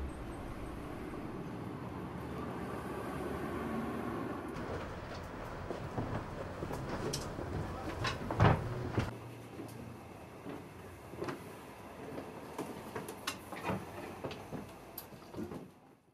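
A Vienna tram rolls along its rails, a steady low rumble of wheels and motor that fades, followed by scattered clacks and knocks from the car and track.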